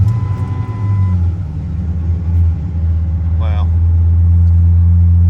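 A Ford Excursion engine with 214,000 miles, cold-started after sitting four days, idles loudly and steadily with a deep, even rumble, and a person briefly exclaims partway through.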